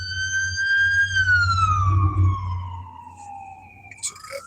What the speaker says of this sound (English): It's an ambulance.